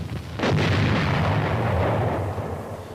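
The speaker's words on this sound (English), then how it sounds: "When Zeus reaches the target, it will be detonated, far enough away from the defended area to save it from damage." A Nike Zeus anti-ballistic missile warhead detonates: one loud blast hits sharply, then a long, deep rolling rumble fills the rest of the moment without fading much. No voices.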